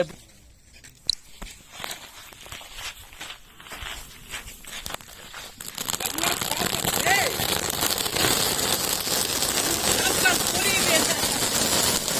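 A popcorn-style firecracker bursts into a dense, continuous crackling that swells and holds steady outdoors, following scattered pops and footsteps.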